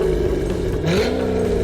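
Bruce Larson's nitrous-breathing quarter-mile drag car at the Carlisle Chevy Nationals, engine revving with a loud, steady exhaust growl that rises briefly in pitch, close and alone.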